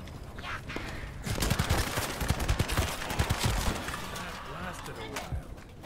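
Gunfire in The First Descendant, a sci-fi shooter in closed beta: loud rapid bursts of shots with crashing impacts and shattering debris for several seconds.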